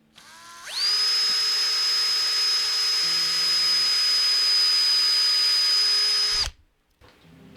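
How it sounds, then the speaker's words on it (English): An electric drill bores a strap button hole into a Les Paul Junior guitar body: one steady, close, high whine that spins up, holds for about six seconds, then cuts off sharply. "and then I drill a hole."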